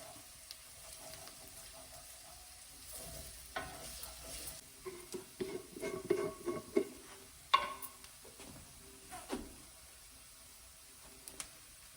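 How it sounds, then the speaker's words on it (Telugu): Ginger and garlic frying in a pan for soya chunk curry, with intermittent stirring and scraping bursts over a low, steady sizzle, fairly close and moderately quiet, with no voices. "అల్లం వెల్లుల్లి మంచి వేగిన వాసన వచ్చే వరకు వేయించాలి కదా"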